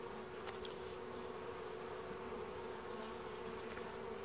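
Honey bees swarm and buzz steadily around an open hive during a colony inspection, a close, continuous drone with no talking over it.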